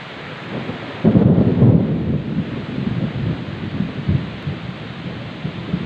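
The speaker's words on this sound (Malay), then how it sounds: "Ini sudah turun hujan lagi." Heavy rain pours steadily beside a river in Kecamatan Juli, Kabupaten Bireuen, with a loud rumble of thunder rolling in after the first second and fading slowly beneath the constant downpour.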